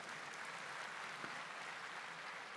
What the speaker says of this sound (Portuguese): Então aplauda esse seu irmão, essa sua irmã que está aí do seu lado